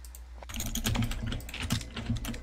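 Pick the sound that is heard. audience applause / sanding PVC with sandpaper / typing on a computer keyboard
typing on a computer keyboard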